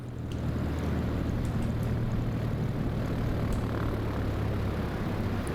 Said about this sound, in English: I'm taxiing on the runway at this point quite briskly